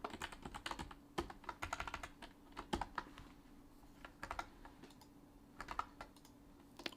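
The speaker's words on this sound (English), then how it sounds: "I'm typing all kinds of keys again." Close, quiet typing on a computer keyboard during programming work, irregular bursts of clicky keystrokes with short pauses between runs, no voices.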